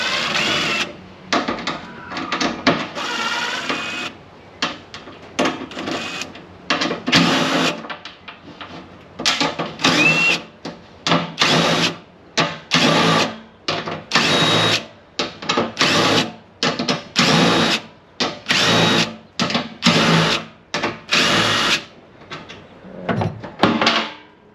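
Drill boring into a metal fuel tank flange, throwing off shavings: a long series of loud, close bursts of whining drilling, each cut off by short pauses, with no talk.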